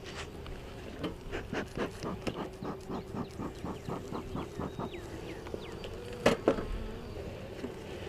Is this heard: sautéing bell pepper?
no